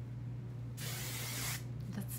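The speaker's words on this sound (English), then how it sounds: "It's a firm, flexible hairspray" A can of firm, flexible hairspray gives a single clear hiss of about one second onto hair, close and fairly loud over a low background hum.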